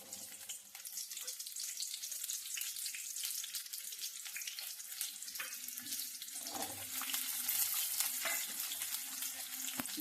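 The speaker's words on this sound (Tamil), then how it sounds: "நம்ம எடுத்து வச்சிருக்க வெங்காயமும் சின்ன வெங்காயம் பெரிய வெங்காயம் ரெண்டையும் வந்து இதில் வந்து சேர்த்துக்கிடுவோம்" Small and big onions frying in hot oil for a sesame peanut chutney give a steady close sizzle with crackly spatters, growing a little louder in the later seconds.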